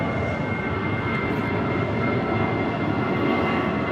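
JetBlue Airbus A320 jet in a special livery, roaring steadily and loudly at close range throughout at Los Angeles airport, a dense continuous engine rumble with a faint high whine on top and no voices.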